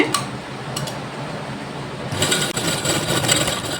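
Sewing machine stitching a blouse at close range, a few ticks at first, then a quieter stretch before steady rapid mechanical whirring and clatter kick in.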